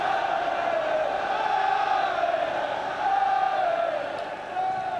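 Football stadium crowd roars during a 1997 League Cup fourth-round match between Liverpool and Grimsby Town, a loud, sustained mass of shouting and chanting with a brief dip before surging again.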